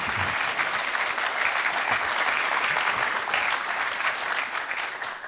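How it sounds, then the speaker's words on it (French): Audience at a MEITO conference applauds a speaker, sustained, even clapping from many hands filling the room at moderate level, easing slightly toward the end. "On va vous applaudir déjà."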